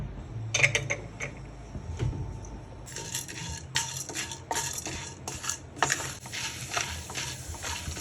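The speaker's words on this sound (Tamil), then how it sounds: "உளுந்தம்பருப்பு, கடலைப்பருப்பு, இது ரெண்டையும் போட்டு அதை நல்லா வறுத்துக்கலாம்" Urad dal and chana dal dry roasting in a pan, stirred with a metal spoon that scrapes and clinks against the pan in irregular bursts, close by, with the lentils rattling softly between strokes.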